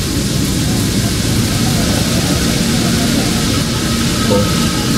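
Airplane flying overhead in Fernbus Simulator, a steady broadband engine roar that stays loud and even throughout, with no speech.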